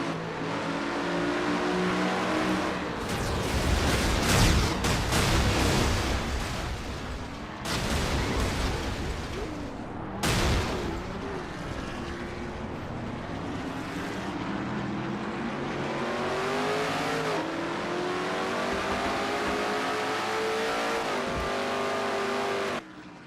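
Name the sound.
race cars running in a stock car racing video game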